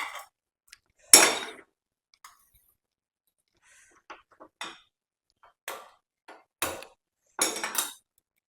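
A second pan is taken up and set down for tempering while making gongura pickle, giving sharp metallic clanks and knocks, then scattered lighter clinks with quiet gaps between.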